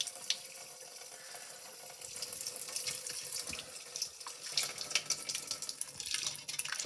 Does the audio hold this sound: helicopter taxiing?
no